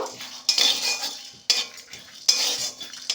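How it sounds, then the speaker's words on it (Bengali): Cumin, coriander and black pepper lightly dry-frying in a pan, three sharp metallic scrapes and clinks of a spoon against the pan at roughly one-second intervals, each trailing into a soft rustle, close and without talking. "দিয়ে দেব জিরে আর ধনে দিয়ে দেব এগুলো একটু ভেজে নেব"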